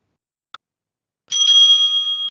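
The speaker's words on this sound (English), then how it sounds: "will ring the bell twice" A debate timekeeper's bell gives a single clear, bright ring that lingers and fades, preceded by a small isolated click, in an otherwise quiet room.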